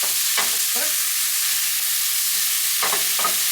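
Mushroom curry fries in mustard oil, giving a loud, steady sizzle that fills the whole clip, close up, with a few brief scrapes of stirring in the pan and no speech.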